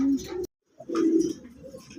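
Red-and-white Rajgolla fancy pigeons cooing close by, soft throaty coos in two bursts separated by a brief silence.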